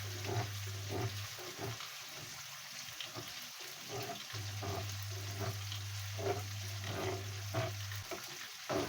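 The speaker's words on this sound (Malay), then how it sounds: "Masukkan pula cili kisar tu. Sedikit air lebih cili tadi tu." Ground chili paste with a little water fries in oil in a pan, a steady close sizzle and bubbling with occasional stirring scrapes and a low hum beneath, no talk.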